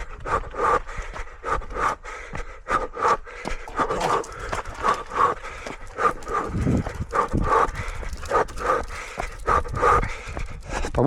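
A Malinois dog pants while running alongside a jogger outdoors, with quick rhythmic breaths close to the mic and a steady beat of footsteps beneath, with no talking.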